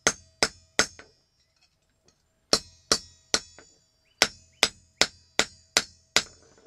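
Steel is hammered to draw out a thin flintlock screwdriver blade. About a dozen sharp, ringing blows fall in three quick bursts with short pauses between, each strike close and loud with a bright metallic ring.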